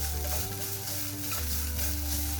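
Grated coconut and raisins are stirred and gently heated in a pan for a banana snack, giving a steady close sizzle with soft scraping from the stirring and no talk.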